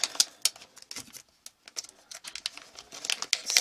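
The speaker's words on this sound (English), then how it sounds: "There's tape on here, take that off." Tape being peeled off paper cutouts tucked into a pocket-letter happy mail package, heard as quick, close crinkling and tearing bursts in an irregular rhythm with short pauses between pulls.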